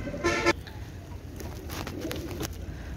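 A pair of Kagoji pigeons gives a short, close coo near the start, then low, quiet background rustle with faint distant noises.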